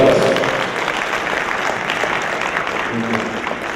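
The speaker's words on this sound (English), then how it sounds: "let's give a round of applause" Steady applause from an audience at an agri-business investment forum in Jamaica, dense and sustained for a few seconds, with a faint voice briefly audible near the end.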